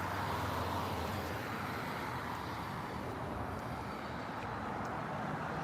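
Cars and trucks pass on a road as a continuous broadband traffic rumble, steady and moderately distant, with no distinct horns or voices standing out.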